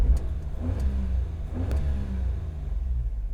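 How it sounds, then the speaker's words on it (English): A car engine revs twice through its exhaust, deep rumbling bursts rising and falling over a steady low idle, loud and close. "the exhaust sounds better even with the door open."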